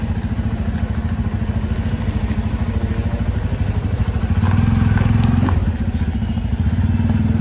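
A KTM 200 motorcycle idling with a heavy exhaust note, a loud, close, steady low-pitched thrumming throb that swells briefly midway, with some light mechanical clatter on top.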